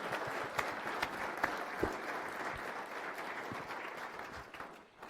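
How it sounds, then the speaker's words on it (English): Sustained applause from a conference audience follows a panel discussion, a dense wash of clapping with a few sharper claps standing out, fading slightly at the end. "Please give a round of applause for this very impressive panel."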